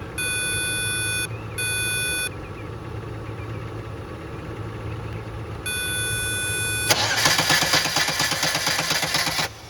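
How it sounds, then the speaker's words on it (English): A car with a faulty starter relay setup cranks and catches after a series of electronic warning beeps, the engine then idling steadily under a loud broadband rush; the beeps come in separate bursts before the engine starts. "I've always been able to start the car like this"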